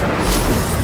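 The Incendio fire spell in Hogwarts Legacy bursts in a single loud, close whoosh of roaring flame with a deep booming body, lasting under a second.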